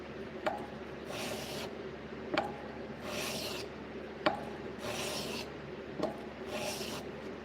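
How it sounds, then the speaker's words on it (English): A steel knife blade is worked flat on a 400 grit sharpening stone in steady rhythmic strokes, about four passes of soft rasping with a sharp tap as each stroke begins, close and quiet. "I'm working the flat of this blade still. This is a 400 grit."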